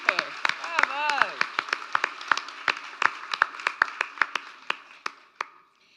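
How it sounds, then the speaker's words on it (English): Audience applause at a community awards presentation, with steady, sharp hand claps from a modest crowd lasting several seconds, while a voice speaks over the start of it. "Please put your hands together for the Quota Alstonville Craft and Garden Fair."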